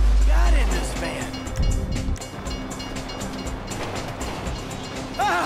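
Train rolling past in Grand Theft Auto V, a steady low rumble with a sustained horn-like tone and rhythmic rail clatter, moderately loud throughout, with voices talking over it.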